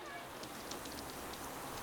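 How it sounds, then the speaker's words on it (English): Rain falls steadily outdoors as a faint, even hiss with scattered soft drips, and quiet voices sit in the background. "It's raining."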